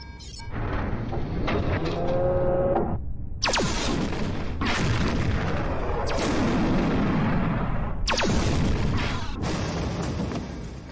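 Spaceship weapons fire in a sci-fi battle, a series of loud booming blasts with rumbling tails, spaced a few seconds apart over continuous background noise.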